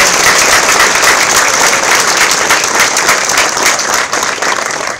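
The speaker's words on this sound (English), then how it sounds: "How about a round of applause for all of our recipients?" An audience at a school moving-up ceremony claps loudly and steadily for award recipients. The dense applause continues for the whole stretch with no break and fades slightly at the end.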